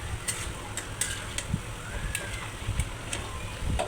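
Spice paste and potatoes fry in a pot with a gentle sizzle, broken by sharp scraping clicks as a utensil stirs the mixture at irregular intervals.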